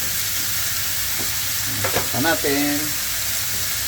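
Chicken sizzles and fries steadily in its own rendered fat, a continuous crackling hiss with brief stirring scrapes and a few spoken words partway through.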